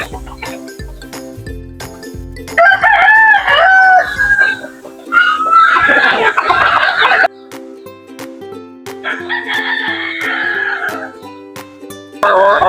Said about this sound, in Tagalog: Ito po yung broodcock natin na kanawayan mga idol.